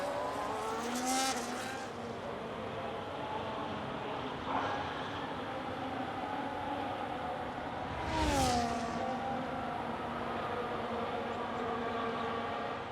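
A race car on a Dutch circuit during a racing round, engine droning steadily with a sharp rising-and-falling pass around the middle as it sweeps close by, other engine noise continuing in the background.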